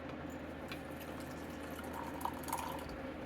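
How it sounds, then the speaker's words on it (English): Water poured into herbs for a home doorway spell, a soft continuous trickle and splash of liquid at low level with faint drip-like accents, no voices present. "Now you add the water."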